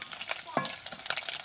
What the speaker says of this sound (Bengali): পুঁটি মাছ ভাজা হয়ে গেছে, মাছ ভাজাগুলো তুলে নিব